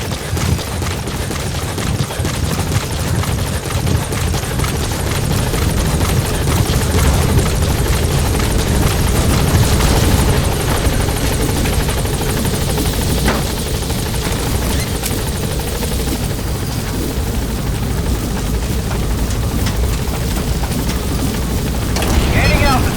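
Helicopter climbing in Metal Gear Solid V: The Phantom Pain, a loud continuous rotor thump and engine roar that holds steady with rumbling low end, a few brief bursts and swells toward the end.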